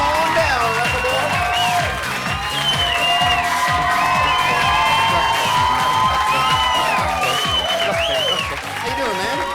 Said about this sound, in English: a big round of applause for Russell James as he makes his way to the chat room